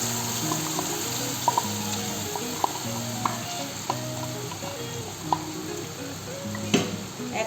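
Chutney ingredients fry in hot oil with mustard seeds for dahi fuchka, giving a steady close sizzle broken by scattered light pops and occasional spoon knocks as the mixture is stirred.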